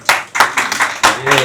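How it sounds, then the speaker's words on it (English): An audience claps for a child artist at a creative childhood workshop, giving several bursts of close, sharp hand claps in an uneven rhythm over a short moment. "The audience, don't let the applause cease."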